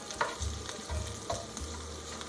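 Vegetable base stirred in a cooking pan, with a spoon scraping in a few slow strokes over a low, steady sizzle, close by with no voices.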